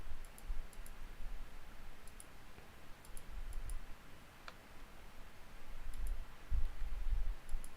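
Light clicking and tapping on a computer keyboard, sparse soft keystrokes in small clusters spread over a quiet, faintly hissy room background, no voices.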